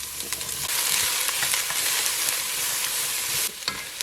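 Onion and squash hit a hot pan, bursting into a loud, close sizzle with stirring scrapes and clatter, then easing off briefly before the frying hiss continues, with nobody talking.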